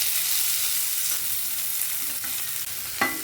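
Chopped onion frying in hot oil with popped cumin and mustard seeds, a steady close sizzle with faint stirring scrapes and a sharper crackle near the end.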